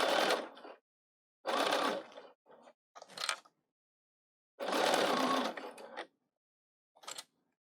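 A Bernina 770 sewing machine stitching through eight layers of doubled fabric in short bursts of whirring, separated by silent pauses, close and fairly quiet.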